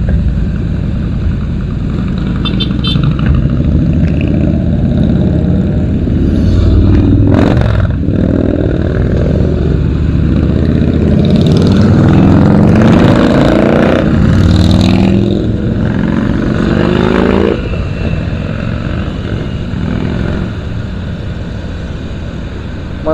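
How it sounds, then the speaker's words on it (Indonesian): A convoy of big motorcycles passes on a Bali bypass road, a loud sustained engine roar swelling and fading as the machines go by in a group close to the microphone, with steady traffic noise underneath. "ini kebetulan ya berpapasan sama rombongan-rombongan moge."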